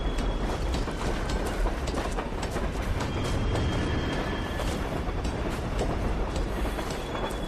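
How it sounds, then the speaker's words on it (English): A train rolls past close by in the LA Noire video game, a loud continuous rumble with rhythmic clickety-clack of wheels on rails and faint squealing, steady throughout with no talk. "You are a little close to that train there"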